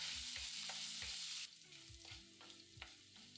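Chopped ginger and a green chilli sizzle briefly in hot oil, a bright hiss that drops away after a second or so, followed by quieter rhythmic stirring scrapes and soft thumps in the pan.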